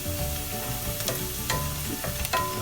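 Garlic sizzles in hot oil while chicken sisig fries, a close, steady crackling hiss with occasional sharper spits and stirring clatter.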